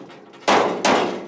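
Two loud, close hammer blows strike a C10 work truck filler panel while it is worked into place, the sharp metallic impacts about 0.4 seconds apart and ringing briefly after each hit.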